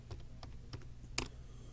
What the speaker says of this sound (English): I'm gonna type live.